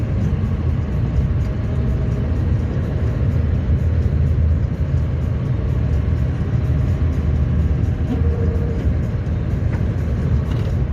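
A snow plow truck with its blade lowered drives at slow speed with the transmission in manual, giving a loud, steady engine rumble and road roar with no break.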